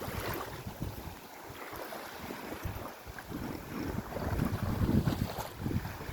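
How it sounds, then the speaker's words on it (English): Steady wind buffeting the microphone on a shoreline during a storm, with rumbling gusts that swell and fade and no voices. "I don't know if you guys can hear the wind."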